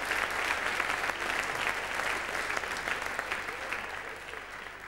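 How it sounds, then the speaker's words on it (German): Studio audience at a German television talk show about Schlager music applauds steadily, a full, even wash of clapping that slowly tapers off. "Applaus."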